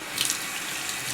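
Water running and trickling into a bathroom sink as a makeup sponge is squeezed under the tap, a steady soft hiss with faint splashes near the start.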